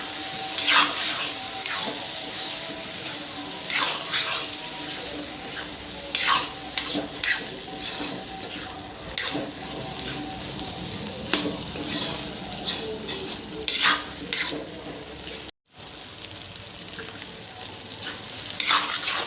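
A spoon stirs boiled matikalai dal into pork frying in a pan, giving a steady sizzle with repeated scraping and clinking strokes close by, cut by one brief gap.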